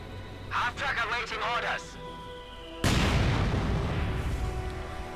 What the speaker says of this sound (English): Now the incendiary barrage.